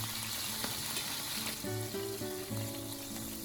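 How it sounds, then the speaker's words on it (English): A cut of cheap beef steak sears loudly in a hot pan, a steady close sizzle with a low tonal hum and faint clinks running through it, no voices. "the surface of the meat is being seared and forming a beautiful golden brown crust"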